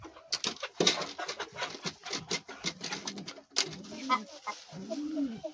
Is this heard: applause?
no